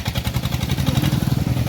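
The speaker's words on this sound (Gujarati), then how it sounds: "પાછળ ગાડી આવે છે." A motor vehicle comes up from behind on a farm road, its engine chugging in a steady, rapid low pulse that stays close and fairly loud throughout, with no voices over it.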